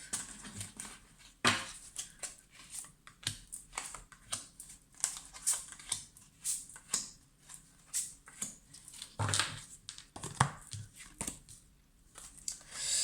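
Playing cards being cut and handled, a series of soft, quick papery taps and riffles at irregular intervals, fairly close and quiet with no talk.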